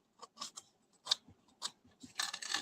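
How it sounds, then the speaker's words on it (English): Closed scissors press and scrape along the edges of embossed cardstock, giving a series of short, soft rasping strokes close up, growing denser toward the end. "I'm just going to do it with my scissors close."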